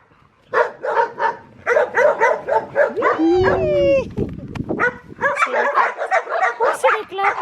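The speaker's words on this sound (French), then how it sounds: "Kiki, c'est un chiot qui est arrivé de Guadeloupe" A small dog yaps and barks repeatedly in quick bursts, with a brief whimper in the middle, close by and fairly loud.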